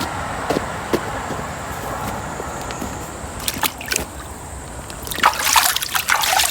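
Clear stream water running past a vegetable farm, a steady close trickle with scattered splashes that grow busier and brighter near the end.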